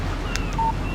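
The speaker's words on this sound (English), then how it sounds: "Text message from Barry." A short phone text-message alert chimes once in the Alan Wake video game, a brief electronic tone over a steady windy ambience.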